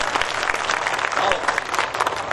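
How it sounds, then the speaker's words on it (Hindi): An audience at a kavi sammelan poetry recital in Jhunjhunu bursts into dense, sustained applause, steady and close for a couple of seconds. "ऐसे थोड़ी एक बार जोरदार तालियां बजाकर बताइए"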